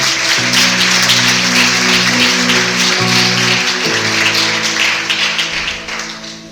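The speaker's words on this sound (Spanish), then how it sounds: "Un aplauso para esta mesa." A church congregation applauds the table in a steady wash of clapping, with sustained organ or keyboard chords playing underneath and the sound tapering off near the end.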